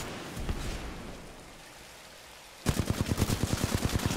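Rapid automatic gunfire in the shooter video game Titanfall 2 bursts in loud and close after a stretch of quieter in-game ambience, firing in a fast, even stream of sharp shots.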